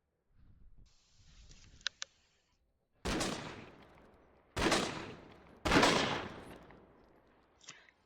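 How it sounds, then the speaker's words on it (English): Gunfire in the video game BodyCam: three loud, close bursts, each decaying into a long echoing tail, after a quiet stretch of faint rustling and a couple of small clicks. "The guns are really loud, but they have really cool reload animations and reload sound effects."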